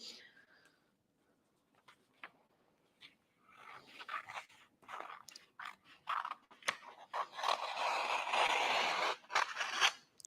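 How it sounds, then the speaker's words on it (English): Scissors snip and scrape through a graffiti-effect transfer design at close range, irregular cuts and rustling that grow denser and louder toward the end, with a dog panting or whimpering nearby. "So I'm just going to cut that out and fuse that for you."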